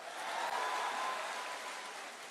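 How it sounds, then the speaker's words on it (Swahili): Crowd applause at a political rally attended by President Ruto, a steady wash of clapping filling the whole moment, fairly distant and even in level. "Pigeni Metheka Lentore makofi."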